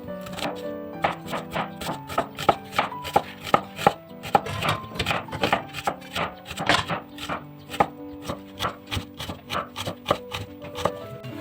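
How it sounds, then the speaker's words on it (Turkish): Rapid knife chops slicing an onion thinly on a wooden board, a quick steady rhythm of sharp knocks running throughout, close up with no talking. "Soğan salatasımızı ince ince doğrayalım."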